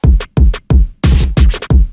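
A scratch sound effect from a Midwxst-style hyperpop beat plays as six sharp, loud bursts in a choppy rhythm, with short gaps between them.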